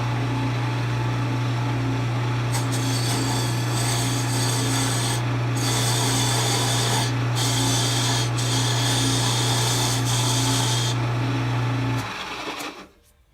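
Wooden handles being turned on a lathe while their edges are rounded off, a steady close mechanical hum with a dense scraping rasp of the cutting over it, running continuously and then winding down at the end, with no talking.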